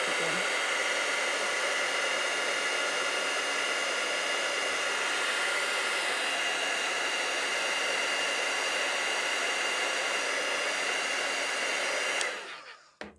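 A heat tool blows a steady, loud, continuous whoosh as it melts embossing powder sprinkled over hot glue, running unbroken for about twelve seconds before cutting off abruptly near the end.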